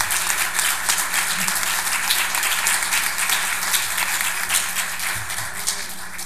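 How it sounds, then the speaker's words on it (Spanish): Sustained audience applause welcoming a speaker at a forum on the family in Mexico, a steady dense wash of many hands clapping for about six seconds with faint voices murmuring underneath. "recibámoslo con un caluroso aplauso"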